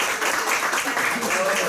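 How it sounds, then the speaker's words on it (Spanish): Audience applause at the end of an academic talk on ocean water column structure, a dense, steady patter of clapping throughout, with voices mixed in. "un aplauso por favor a Victoria."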